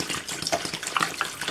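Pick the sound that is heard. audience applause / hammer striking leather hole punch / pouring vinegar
pouring vinegar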